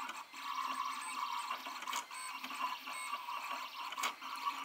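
A Siser Romeo 24-inch vinyl cutter runs a cut with a faint, steady mechanical whir and soft ticking, broken by a couple of sharp clicks.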